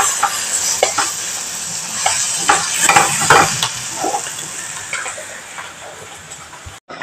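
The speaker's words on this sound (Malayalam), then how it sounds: "അതൊന്ന് വഴന്ന് വരുന്ന വരെ ഇളക്കി കൊടുക്കാം" Tomatoes sautéing in a pan for a potato and onion curry, stirred with a utensil: a continuous close sizzle broken by repeated scraping and clinking strokes against the pan.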